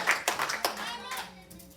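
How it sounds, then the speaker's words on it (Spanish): Scattered hand claps from a church congregation rise and fade over under two seconds, with voices mixed in. "dale ese aplauso a nuestro Dios que está siendo exaltado en"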